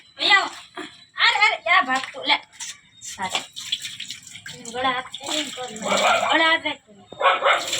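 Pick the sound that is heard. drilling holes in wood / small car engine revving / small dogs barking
small dogs barking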